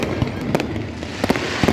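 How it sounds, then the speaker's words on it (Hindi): Fireworks at an evening Gita Jayanti Mokshada Ekadashi 2022 celebration near Brahma Sarovar, a rapid series of sharp bangs and crackles against a busy outdoor background. "गीता जयंती मोक्षदा एकादशी 2022 संध्याकालीन का आतिशबाजी देखते ही बनता है"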